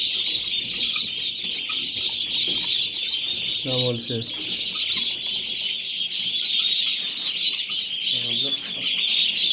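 Hens and their chicks cluck in two short bursts over a steady, shrill background chorus, while people talk nearby.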